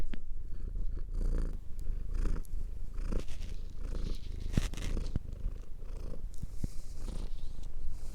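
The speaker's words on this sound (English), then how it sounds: "Are you purring for the people?" A pet cat purring steadily and close by, a soft continuous rumbling throb that runs unbroken with no voices over it.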